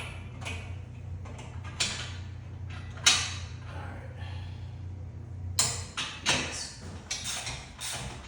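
Wrench and socket turning bolts while fitting a fly arm to a Bells of Steel cable tower: scattered metallic clicks, ratchet ticks and creaks over a steady low hum, a few sharper knocks standing out.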